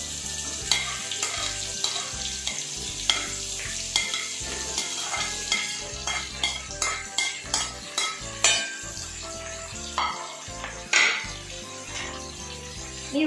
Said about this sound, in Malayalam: ആ പെരിഞ്ചീരകമൊക്കെ ഒന്ന് പൊട്ടി വരുമ്പോൾ നമുക്ക് അതിലേക്ക് മുറിച്ചു വെച്ചിട്ടുള്ള പച്ചമുളക്, അതുപോലെ വലിയ ഉള്ളി, ചെറിയ ഉള്ളി, ഇതെല്ലാം ഇട്ട് കൊടുക്കാം.